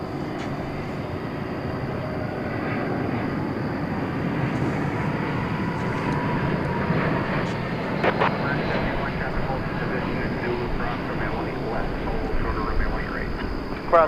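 An American Airlines plane on runway 18 left at DFW Airport at night sends out a steady, broad roar of jet engines, held at moderate loudness throughout. A radio voice speaks over it.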